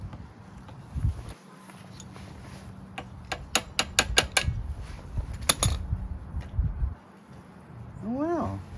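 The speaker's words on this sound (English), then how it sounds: "Let's take the bowl off." Carburetor bowl being removed from a Craftsman push lawnmower: a run of sharp metallic ticks and clinks in the middle, with soft handling noise and rustle before and after, close and moderately loud.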